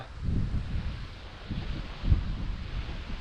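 Gusty wind blows outdoors at a riverside fishing spot in bad weather, a low rumbling buffet against the microphone that swells and eases in uneven waves.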